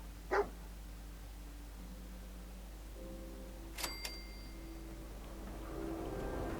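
One brief, moderately loud bark from Dogmeat, the dog in Fallout 4, near the start, followed by a quiet stretch with a faint mechanical sound and low hum.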